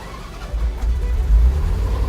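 A 1993 Ferrari 348 GTS engine catches after the key is turned and settles into a loud, deep, throbbing idle close by, with no voices.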